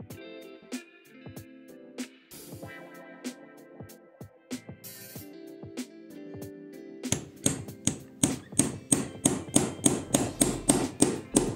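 A hammer drives a hole punch through a leather belt loop on a knife sheath. Scattered single taps come first, then a quickening run of sharp, evenly spaced blows close up.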